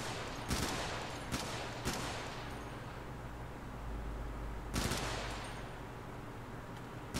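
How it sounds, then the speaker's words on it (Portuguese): Gunfire in the Helldivers video game: several short bursts of rapid automatic shots, sharp and close, separated by pauses, over a steady low in-game rumble. "Agora aqui a gente vai ter que aprender a atirar, né? Atirar, recarregar."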